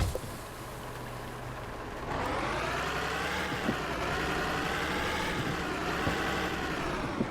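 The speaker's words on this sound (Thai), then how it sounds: "นี่คือเสียงเครื่องยนต์นะครับ" A Freightliner Cascadia truck idles in the Truck Simulator Ultimate game, a steady, even engine rumble with no talk that swells louder and brighter after about two seconds.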